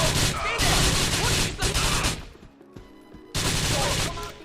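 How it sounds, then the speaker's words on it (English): Dense, loud gunfire bursts from a shootout in the video game GTA IV, with rapid overlapping shots, a brief lull near the middle, then another heavy volley. "A shootout begins."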